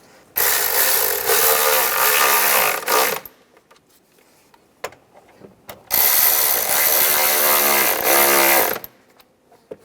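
A power ratchet drives in the ignition coil bolts on a 2003-2010 BMW X3. Two loud, close, continuous whirring runs of about three seconds each are separated by a quiet gap with light clicks.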